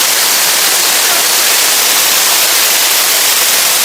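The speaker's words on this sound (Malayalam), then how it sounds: "നല്ല വെള്ളച്ചാട്ടം കേട്ടോ" A forest waterfall pours in a loud, steady, unbroken roar of rushing water that fills the whole stretch, with no voices over it.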